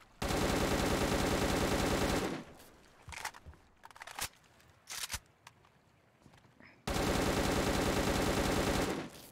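A weapon fitted with a bipod grip fires long rapid automatic bursts in the video game Unit Classified, loud and steady at the start and end, with scattered single shots and quieter handling clicks between.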